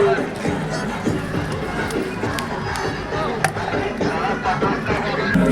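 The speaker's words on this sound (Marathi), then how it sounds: "पुढं खूप गर्दी झालेली आहे" A large crowd at the Bhima Koregaon gathering, with a steady, dense murmur of many voices and footsteps filling the space and no single voice standing out.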